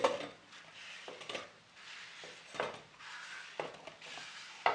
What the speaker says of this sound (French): ici dans la petite casserole, nous mettons les pommes